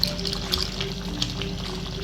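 Water pouring into ketchup in a pan while making spaghetti sauce, a steady close trickle and splash at low level, no talking.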